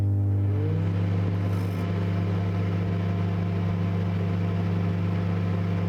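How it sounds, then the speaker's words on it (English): A microwave oven in the horror video game The Convenience Store hums steadily while heating a bento, a constant low drone with faint tonal overtones and no voices. "How I be staring at my food in the microwave?"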